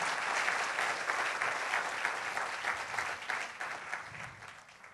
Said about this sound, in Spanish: Un aplauso para Cristo Jesús en esta mañana